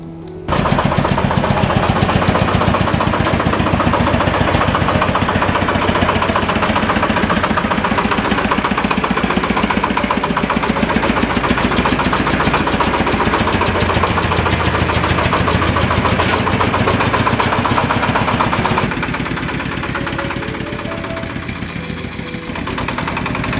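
A loaded vehicle's engine drives through a vegetable garden during a potato harvest, a loud, steady, rough-running drone with rapid knocking pulses that lasts throughout and drops slightly near the end.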